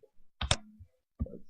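A single computer mouse click, close and fairly loud, is followed by a second softer click moment later during use of SPSS statistics software on a computer, with no talk.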